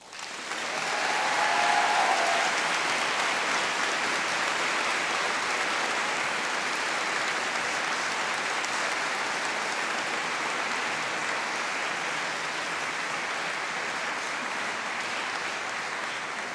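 Graduates at a Strathclyde Business School science graduation ceremony applaud their families and friends, a sustained, dense hall-wide clapping that swells in the first two seconds and then holds steady and loud to the end.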